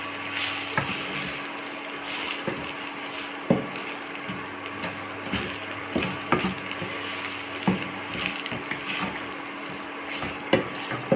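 Salted kohlrabi rice stirred in a pan on the stove over a very low flame: soft scraping strokes and light clicks come at an irregular pace over a faint, steady sizzle, close by and with no voices.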